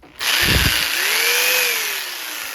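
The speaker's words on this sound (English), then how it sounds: "Use a jigsaw, guys. That's my jigsaw right there." A jigsaw cuts wood in a home workshop, starting abruptly and then running loud and steady for about two seconds with a high, buzzing motor whine that slowly winds down in pitch.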